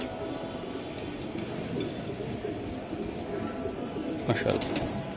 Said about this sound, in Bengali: এই যে দেখেন আর একটা কবুতর